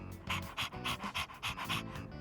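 A dog panting in the video game Persona 3 Reload, with quick rhythmic breaths repeating steadily and close up, loud and clear with no talking over them.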